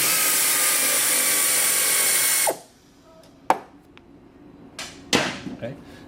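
A power tool with a socket spins off a short bolt holding the factory rubber sway bar bushing on a MINI Cooper rear sway bar, a loud steady whir that stops abruptly, followed by a few scattered clicks and clanks.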